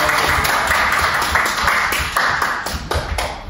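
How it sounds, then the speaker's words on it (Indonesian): A university micro-teaching class claps after a maths problem, a brief burst of scattered, sharp handclaps from a small group, close and fairly loud, fading unevenly over a few seconds. "Beri tepuk tangan ya."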